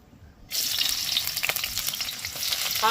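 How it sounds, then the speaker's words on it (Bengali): Sliced onion and garlic hit hot oil in a pan with a sudden sizzle after a brief quiet start. The frying then crackles and hisses steadily, close up, with faint stirring. "এই যে পেঁয়াজ আর রসুনটা ভাজছি"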